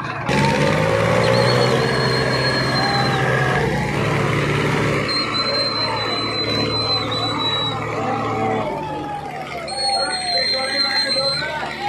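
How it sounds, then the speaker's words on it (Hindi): Two Farmtrac 60 tractors at a tractor tug-of-war contest drive toward the starting point, their engines a steady rumble under crowd chatter, with high electronic beeping tones cutting in now and then. "लो भाई फिलहाल स्टार्टिंग पॉइंट पर जाने लग रहे दोनों ट्रैक्टर।"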